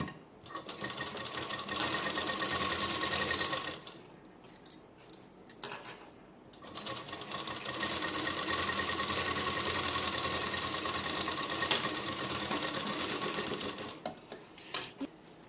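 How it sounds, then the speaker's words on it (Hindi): Sewing machine stitching the back armhole of a suit lining, running in long steady bursts with brief pauses between seams, close and loud. "और ये मेरा बैक का आर्महोल है, तो इसको भी मैं सिल लेती हूँ।"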